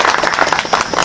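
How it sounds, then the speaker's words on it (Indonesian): A brief swell of crowd applause at a public speech in Indonesia, a dense wash of clapping heard alone for about a second. "Kita ucapkan tepuk tangan."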